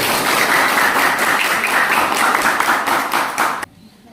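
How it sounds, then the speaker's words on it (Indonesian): A classroom of students applauds a classmate in loud, dense clapping that carries on for several seconds before cutting off abruptly. "Terima kasih, aplaus untuk Ilham."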